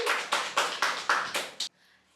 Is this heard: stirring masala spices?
no